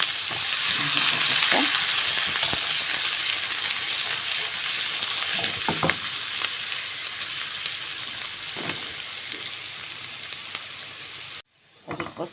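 Chopped onions sizzle steadily in hot oil for koshari, a loud continuous frying hiss with a few soft stirring knocks, cutting to near silence just before the end.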